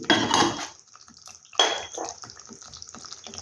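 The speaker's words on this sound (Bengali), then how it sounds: "মশলা দেওয়া বাটি দিয়ে আমি জলটা ধুয়ে দিচ্ছি" A small metal spice bowl gets rinsed with water in a home kitchen: two clattering clinks of the bowl against dishes, with splashing water and softer knocks and drips in between.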